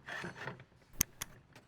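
One side of an adjustable metal floor bracket for a strapless motorcycle transport system slides into place with a couple of brief, faint clicks and knocks.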